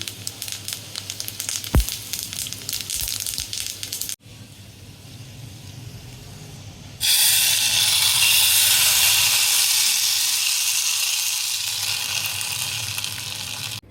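Dry red chillies and five-spice seeds hit hot oil with peanuts in a pan, a steady crackling fry that suddenly swells into a loud, bright, continuous sizzle and hiss.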